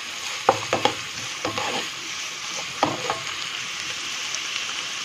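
Onions fry in a pan for pav bhaji, a constant close sizzle broken by a few sharp clicks and scrapes of a spoon stirring through them.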